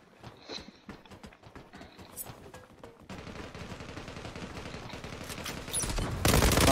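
Gunfire in the online shooter Zula: scattered faint shots and clattering sounds at first, then dense rapid automatic fire that grows louder and harsher toward the end.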